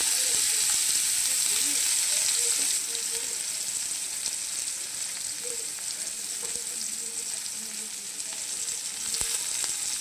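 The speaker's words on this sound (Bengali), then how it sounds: "এরপর আমি এই পেঁয়াজ কুচিগুলো দিয়ে দিচ্ছি।" Chopped onions dropped into hot oil with cumin seeds, a loud steady sizzle and hiss of frying that settles slightly after a few seconds, with faint kitchen clatter.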